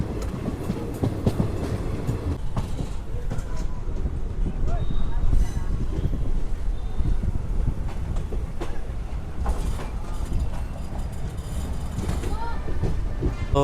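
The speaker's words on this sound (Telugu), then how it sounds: "ట్రైన్ వచ్చేసి కాళాస్ నుంచి అయితే బయలుదేరిపోయింది" Special train 07653 from Cherlapalli to Tirupati pulls out of the Kalahasti station on its way to Renigunta, its steady wheel rumble and clatter rolling continuously close by, with faint voices in the carriage now and then.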